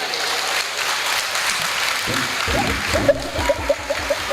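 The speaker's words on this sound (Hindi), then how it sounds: "बड़ जोरदार ताली बजाइए" Applause from the audience at a Hindu religious discourse on Krishna and Sudama, a broad clatter of clapping that fills the first seconds before giving way to rhythmic musical accompaniment.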